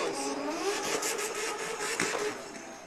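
A wild three-rotor Mazda RX-7 race car pulls off the course during a Top 16 competition run, its engine a loud, raspy blare broken by rapid machine-gun popping and crackles.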